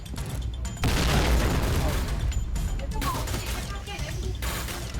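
Booming grenade explosions and crackling gunfire from a video game battle, loud and dense throughout, with voices talking over the chaos.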